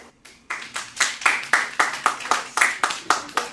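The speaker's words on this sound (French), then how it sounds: "Vous pouvez l'applaudir." Conference audience claps in slow, fairly even rhythm, with about a dozen distinct loud claps sounding close and crisp in quick succession.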